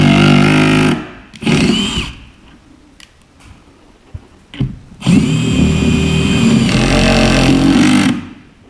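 A power drill or driver drives a couple of screws into a climbing hold on a home bouldering wall, with loud whirring bursts in the first second and again near 1.5 s, then a sustained run from about 5 to 8 seconds.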